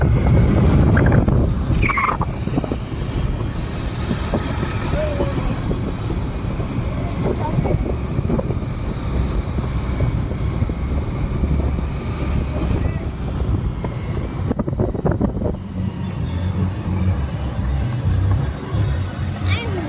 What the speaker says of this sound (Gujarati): આ હેતુ જો સ્કૂટર ચલાવે છે એક્ટિવા.